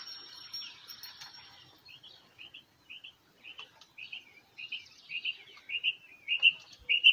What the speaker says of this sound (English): Quail is noisy.